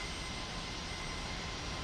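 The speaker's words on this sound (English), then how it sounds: "that Learjet's actually leaving" A Learjet departing from an airfield near Denver, its engines giving a steady, loud, broadband roar that holds evenly with no talking.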